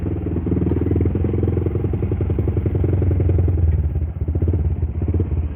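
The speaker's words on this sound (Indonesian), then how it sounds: "Beda ya kalau pakai knalpot racing, suaranya keluar itu kayak beda gitu guys." Yamaha Vixion motorcycle engine fitted with a racing exhaust, a loud close throbbing rumble with fast regular pulses, holding steady with slight rises and one brief dip.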